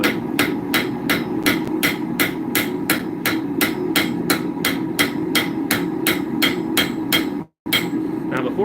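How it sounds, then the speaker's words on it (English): A ball peen hammer steadily strikes a rivet head to set it, about two blows per second, loud, close and metallic. The blows come in an even run with one brief pause near the end. "we're going to set the head of the rivet. You, of course, have to use a ball peen"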